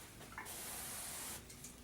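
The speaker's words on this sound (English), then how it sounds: "Just go ahead and spray a band of material across the top, down the sides," Cimi-Shield sprayed onto a hotel room headboard: one sustained hissing burst from a sprayer nozzle lasting about a second, with a short hiss trailing after it.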